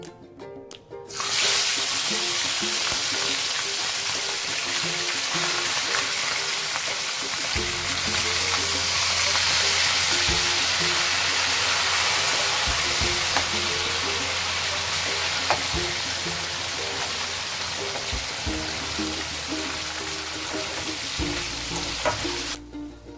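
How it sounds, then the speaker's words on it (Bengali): Hilsa fish heads frying in hot oil in a kadai, giving a loud, continuous crackling sizzle that starts abruptly and holds steady throughout, close up, with occasional faint clinks and no talk. "এখন আমি ইলিশ মাছের মাথাগুলো ভেজে নেব।"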